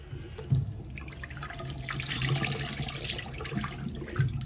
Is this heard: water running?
yes